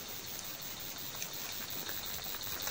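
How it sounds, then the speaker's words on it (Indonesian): Heavy rain in a forest makes a steady, even wash of dense patter that stays constant and fairly faint throughout, with no other sounds standing out. "Ini hujannya deras teman-teman."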